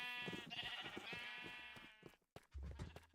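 A Minecraft sheep lets out a long, wavering bleat, then a short dull thump follows near the end.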